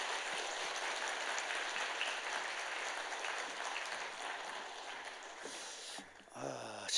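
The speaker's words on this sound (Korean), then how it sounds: "우리 장로님 박수로 환영하겠습니다." A church congregation at a Wednesday evening service claps to welcome a guest elder, with sustained even applause that fades near the end before a brief voice and a rustle close to the microphone.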